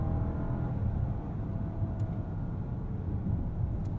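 A 2023 Rolls-Royce Phantom pulls steadily up a hill, its engine a smooth, muted low rumble with a continuous cabin hum and no voices over it.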